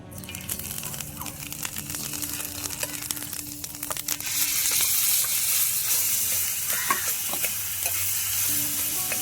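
Curry leaves hit hot oil in a pan over a wood-fired stove and burst into a loud, steady sizzle, preceded by crackling and stirring, heard up close without talk.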